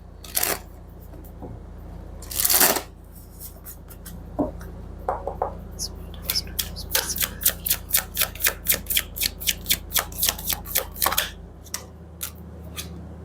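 Tarot cards being handled and shuffled, with a few scattered close flicks followed by a quick rhythmic run of riffling card snaps, fairly soft.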